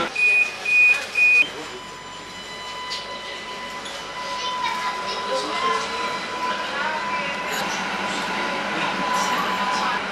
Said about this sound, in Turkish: Evet, şimdi tramvaydan indim.